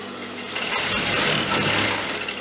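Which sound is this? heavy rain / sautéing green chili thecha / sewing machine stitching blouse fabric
sewing machine stitching blouse fabric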